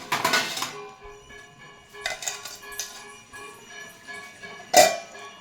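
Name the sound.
pan covered with a lid while frying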